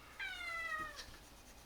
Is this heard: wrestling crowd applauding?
no